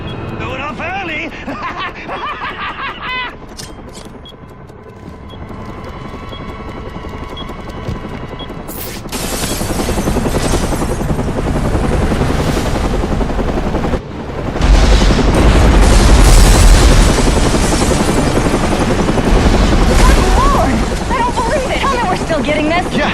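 Explosions ring out in Batman Arkham Origins at the Gotham Royal Hotel, two loud booming bursts that turn into sustained roaring blast noise, with a reporter's voice and chatter heard throughout.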